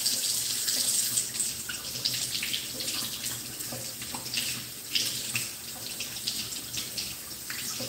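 Tap water runs steadily into a kitchen sink while food is rinsed, a continuous close splashing stream heard alone.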